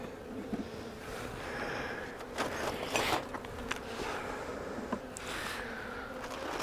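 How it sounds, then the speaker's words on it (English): A tiny, near-starved honeybee swarm being fed sugar buzzes in a close, steady drone, with a few louder wingbeat bursts rising over the hum and no talk. "these bees are on the borderline of surviving"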